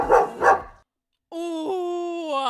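At a voice acting showcase, a performer imitates a dog, giving two short rough barking bursts, a brief pause, then a drawn-out whining, growl-like tone, close and fairly loud.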